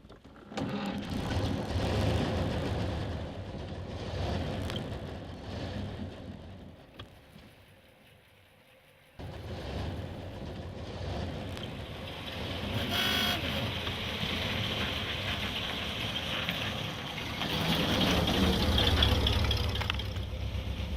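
Engine of a 1918 Chevrolet car with factory dual exhaust, running steadily and close by for the whole stretch, with a brief dip in level partway through and no voices.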